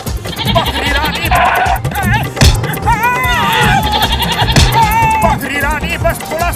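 A cartoon goat bleats repeatedly in a Hindi animated show, wavering, quavering cries overlapping loud background music and scuffling effects, with sharp thuds in between.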